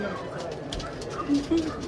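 Pigeons coo softly inside a breeder loft, a few low murmuring coos over a dense, steady background of rustling and flock noise.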